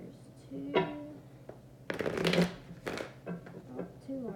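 Tarot cards riffle in a few quick shuffles close by, soft papery bursts with a quiet voice murmuring around them.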